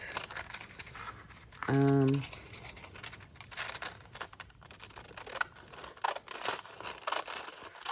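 Scissors cut into a paper envelope with a window, giving quiet close snips and paper crinkling, with a short tonal hum partway through.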